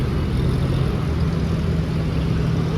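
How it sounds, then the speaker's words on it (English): A car at a Cars and Coffee meet in Dubai idles with a steady, deep rumble and a slightly uneven lope from its cams, close and continuous, without talk. "Can hear the cams on this one."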